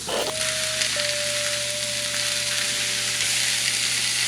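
Vegan kimchi fried rice sizzles and fries steadily in a hot pan, a continuous close hiss with a faint tone running through it and no talk.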